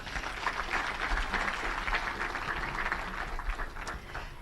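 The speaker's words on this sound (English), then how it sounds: "a very big round of applause" Applause from an audience at an institutional launch event, a dense patter of many hands clapping at moderate volume that stays fairly steady throughout.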